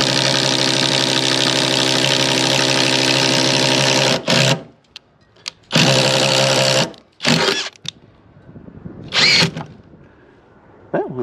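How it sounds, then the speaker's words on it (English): A 1¼ inch paddle bit on a power drill bores into wood for a shed build, a loud steady whine running for about four seconds, then several shorter bursts separated by pauses. "I'm gonna try to just hog it out with this 1¼ inch paddle bit"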